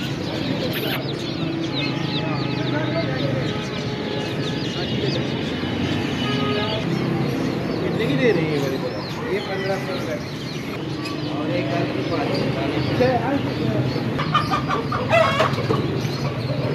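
Several laying hens cluck repeatedly, with a rooster's crow breaking in, against a busy background of people talking nearby at a bird market in Lahore.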